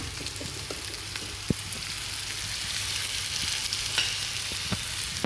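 Oil sizzles in a pan over a gas stove as a steady, moderately loud frying hiss, broken by a few sharp crackles and pops.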